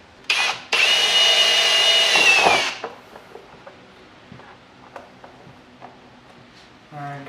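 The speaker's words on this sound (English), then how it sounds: "Now I need to drill a hole for the actual line" A power drill bores holes into a Power Wheels ride-on Jeep bumper, with two loud bursts of whirring, the longer lasting about two seconds, followed by quieter clicks and handling noises and a brief final rattle.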